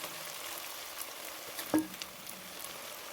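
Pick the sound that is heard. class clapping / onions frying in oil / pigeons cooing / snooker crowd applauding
onions frying in oil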